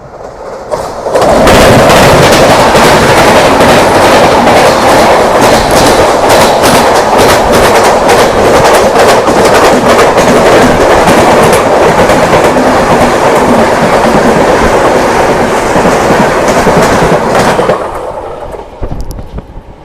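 The 12753 Marathwada Sampark Kranti Express runs on rails with a loud, continuous roar and a rapid clickety-clack of wheels over the joints, steady for many seconds before cutting off abruptly.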